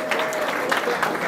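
Wedding guests clap for a newly married doctor couple, a brief burst of close, scattered clapping mixed with voices.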